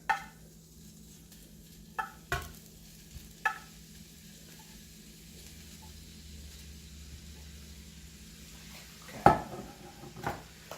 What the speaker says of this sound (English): we've got 2 pounds of ground beef that we're going to brown in our skillet